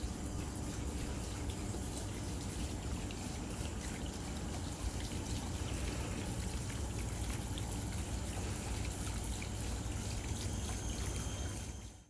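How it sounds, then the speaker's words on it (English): Water gurgles and trickles steadily in a resort courtyard, a soft continuous babble of running water with no voices, holding an even level throughout. "this lovely water gurgling"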